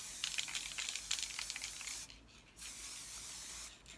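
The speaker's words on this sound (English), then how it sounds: "Obviously with spray paint it does go everywhere" A can of spray paint hisses in a steady, close spray lasting a couple of seconds, with a short pause and then a second sustained burst, no speech over it.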